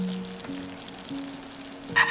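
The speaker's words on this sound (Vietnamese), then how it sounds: "Trong lúc chờ chiên gà chín" Chicken thighs frying in hot oil give a steady, close sizzle and hiss throughout, with a constant low hum beneath and a brief sharper crackle near the end.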